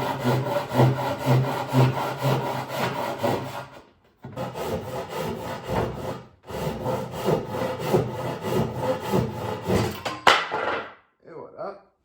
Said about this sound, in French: Je vais prendre ma scie à refendre.